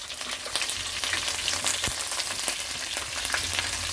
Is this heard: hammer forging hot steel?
no